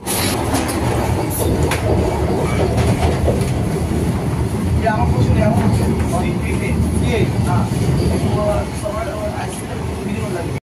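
Vande Bharat Express train running between Jajpur Keonjhar Road and Cuttack, a steady loud rumble of wheels and carriage noise throughout, with faint voices inside the coach under the din.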